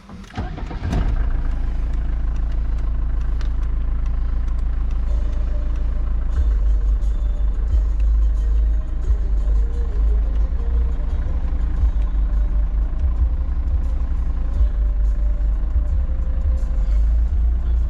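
A Mercedes 190D W201 diesel car engine starts and then settles into a steady, loud idle that runs on unbroken and close by, with a low rumbling throb throughout.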